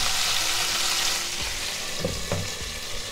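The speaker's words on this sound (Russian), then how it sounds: "Обжариваю сейчас на троечке." Liver fries in a pan on a stovetop over medium heat, giving a constant, close sizzle with a few soft clinks from stirring.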